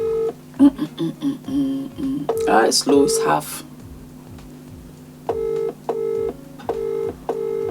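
A telephone keypad dials a call: a run of quick electronic beeps, then a short burst of fuller tones, then more spaced beeps, with a person talking briefly over the middle.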